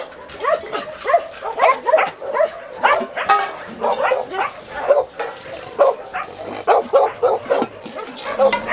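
Several dogs at a shelter in Yerevan bark and yip in a busy, overlapping chorus close by, with a few whimpers mixed in and occasional human talk underneath.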